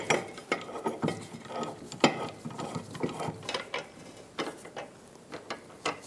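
A trailing arm bushing installer tool is tightened on a 2000-2007 Ford Focus, giving a close series of uneven ratcheting clicks and metallic ticks with short pauses between bursts.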